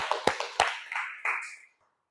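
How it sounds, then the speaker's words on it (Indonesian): Brief applause in a classroom or teacher-training session, a few sharp hand claps followed by a short ragged burst of clapping that stops abruptly after under two seconds. "Oke, tepuk tangan."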